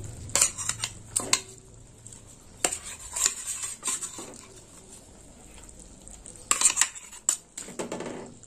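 Fried pointed gourd pieces tipped into a pan of simmering mustard gravy, heard as a string of close metallic clanks and stirring scrapes against the pot over a soft bubbling background.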